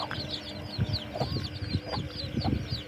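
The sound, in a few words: chicks clucking on a poultry farm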